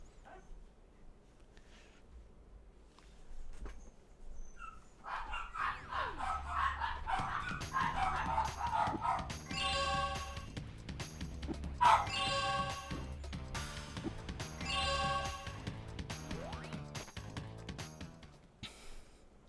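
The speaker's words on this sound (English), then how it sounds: "I need to check what the dog's barking at now" Dogs bark somewhere in a room, faint and intermittent beneath louder, steady video game music that plays throughout.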